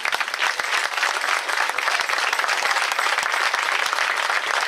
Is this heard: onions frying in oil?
no